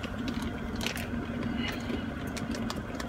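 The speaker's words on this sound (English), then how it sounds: "This is my trail mix. You already know I'm gonna eat it" Trail mix crunches up close in repeated bites and chewing, crisp cracks scattered over a quiet background.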